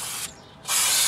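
Aerosol brake cleaner blasts onto the rear brakes of a 1998 Ford F150, two loud, close hissing sprays with a brief pause between them.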